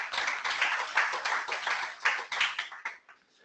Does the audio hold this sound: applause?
yes